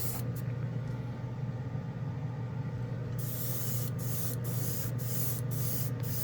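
An airbrush sprays OdenKan Final Chrome paint with a close, steady hiss, broken near the end by a series of short on-off bursts over a low background hum.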